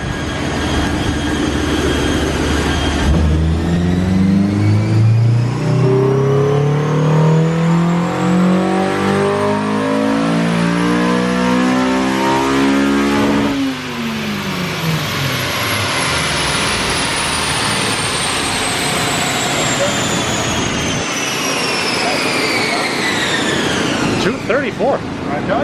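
A Honda S2000 engine revs hard on a dyno, climbing steadily in pitch to a high scream before dropping off and settling at high revs, loud and close throughout.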